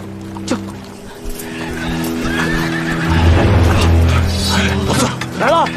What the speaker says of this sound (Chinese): 好像有马蹄声